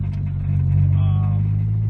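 Nissan SR20DET engine fitted with an eBay turbo, a Godspeed GT2871, driving on a scenic road at part throttle while running lean, a steady low engine drone with a slight rise in pitch partway through, close and continuous.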